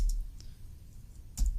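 A few light computer keyboard key clicks, sparse and close, as a command is typed in a terminal while setting up a home network storage server.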